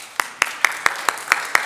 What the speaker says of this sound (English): Let's have a round of applause for Jim and Carol.